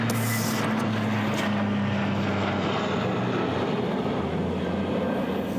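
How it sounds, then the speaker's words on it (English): An airplane engine drones steadily throughout, a loud continuous hum with a low tonal component, no talking. "Somebody finna take a plane to somewhere."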